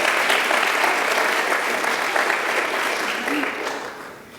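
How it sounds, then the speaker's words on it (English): Audience applause at an evening speech showcase: steady, dense clapping from a crowd filling the room, holding strong and then tapering slightly toward the end. "I'd like to also give him a round of applause"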